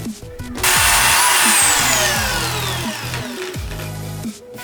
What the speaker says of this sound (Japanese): で残りの穴も開けていきます